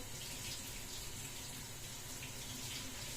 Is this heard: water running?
yes